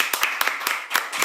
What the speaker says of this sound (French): On applaudit tous ceux qui ont réussi.